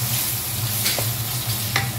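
Onions drop into hot oil and sizzle loudly in a steady hiss, with a couple of brief scraping stir sounds as the sambusa filling starts cooking.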